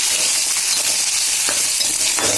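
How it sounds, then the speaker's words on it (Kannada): Onion and tomato frying in hot oil, a loud, continuous hiss and crackle filling the whole moment, with faint scrapes from stirring. "ಈರುಳ್ಳಿ ಟೊಮೊಟೊ ಹಾಕಿದ್ಮೇಲೆ ಸ್ವಲ್ಪ ಫ್ರೈ ಮಾಡ್ಕೋಬೇಕ್ರಿ"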